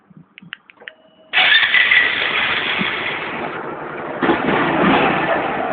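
A car engine, started by a remote-start alarm system with no key, cranks and catches after a few faint beeps, then settles into a steady, loud idle close by with no one talking.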